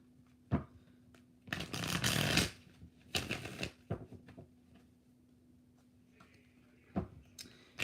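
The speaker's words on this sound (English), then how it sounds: "2 more shuffles." Tarot cards riffle through a shuffle in a couple of short bursts, each a dense flutter, with a few sharp taps and quiet pauses between them.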